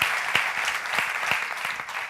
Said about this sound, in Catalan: L'aplaudiment és per vosaltres